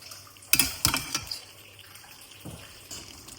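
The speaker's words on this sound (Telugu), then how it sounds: "కొద్దిగా వాటర్ యాడ్ చేసుకోవాలన్నమాట" Water splashes and pours into a pan of cooking country chicken in a few quick gushes, followed by quieter trickling and faint bubbling.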